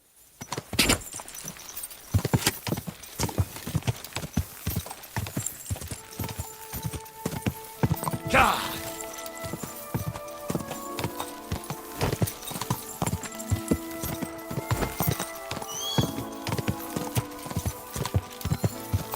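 Steady clip-clop of horse hooves walking throughout in the video game Kingdom Come: Deliverance II, with a brief neigh partway through, set against faint ambient background.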